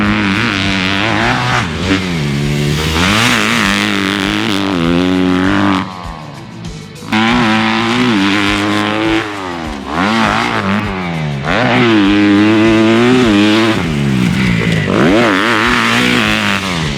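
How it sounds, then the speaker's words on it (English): A 2021 Kawasaki KX250 four-stroke motocross dirt bike engine revs loud and close, rising and falling in repeated throttle blips with a brief dip mid-run, then climbing again to sustained high revs. "We're getting our first chance to ride the all-new 2021 Kawasaki KX250."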